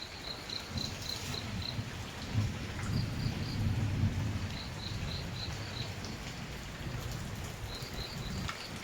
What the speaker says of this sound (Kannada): ಇವತ್ತು ಅಷ್ಟು ಜೋರು ಮಳೆ ಉಂಟು